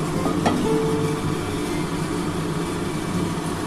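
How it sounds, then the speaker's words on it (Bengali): Cauliflower pieces frying in hot white cooking oil, a continuous fine sizzle with a faint low hum underneath, steady and close. "এখন আমি সাদা তেলে এটা একটুখানি কপিটা ভেজে নেব।"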